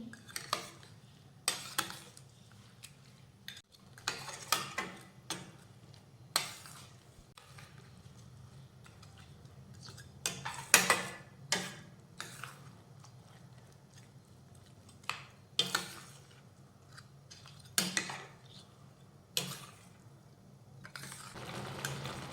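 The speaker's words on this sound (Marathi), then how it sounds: "हे सतत असं मिक्स करत राहायचं हलवत राहायचं म्हणजे मग खाली लागत नाही" A spoon stirs melting jaggery in a pan for gulamba, a Marathi mango preserve, making soft, close, irregular scraping clinks against the metal that repeat throughout at a steady working pace.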